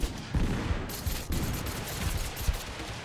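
Gunfire in the battle royale video game Totally Accurate Battlegrounds, a fusillade of shots crackling through the whole stretch, with sharp louder bursts standing out over a steady rattle.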